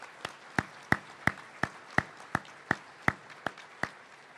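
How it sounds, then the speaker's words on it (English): An audience at the 2023 LHSAA Hall of Fame ceremony claps in a steady, evenly spaced rhythm, about three sharp claps per second, with no talking. "How about one more round of applause for all of our inductees?"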